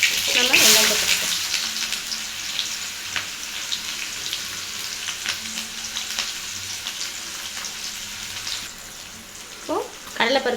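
Onions sizzle and crackle in hot oil with popping mustard seeds, a steady close frying hiss with occasional stirring scrapes, part of a potato poriyal being cooked.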